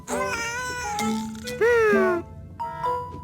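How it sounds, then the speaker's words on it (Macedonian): A cat meows several times, clear and close, with drawn-out, rising and falling cries separated by short pauses. "Ема ја чува вселенската мачка на братучетка и Мија, Виолетка."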